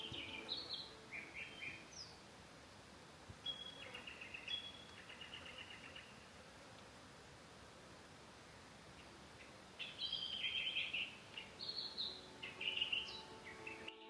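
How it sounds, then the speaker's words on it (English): Birds in paperbark trees in an outback gorge give faint, scattered high chirps and short trilling calls, heard over a steady hissing background. "there's a whole family of paperbarks, and the bird life in there is just gorgeous. You might be able to hear them"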